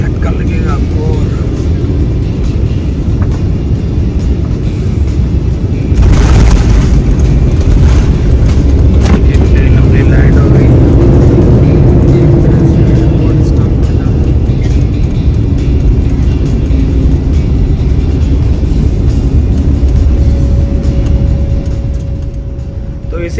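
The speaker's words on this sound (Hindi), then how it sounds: "फाइनली प्लेन रनवे पे आ गई है और ये आप सीधा लैंडिंग करने के लिए तैयार है" Turkish Airlines passenger jet touching down on a runway, heard from inside the cabin: a loud, constant roar of engines and airflow that swells with a rumbling surge partway through, then slowly eases off.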